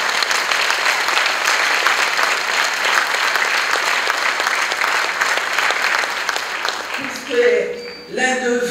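An indoor audience gives a long, steady round of applause for Canadian Burundians at a Maison Shalom gathering. The clapping fades near the end, and a voice begins speaking.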